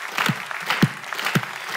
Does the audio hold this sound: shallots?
no